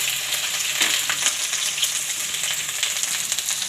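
Green garlic and ginger sizzle steadily in hot tempering oil with cumin, a dense, continuous crackling fry held close and loud throughout, with no talk.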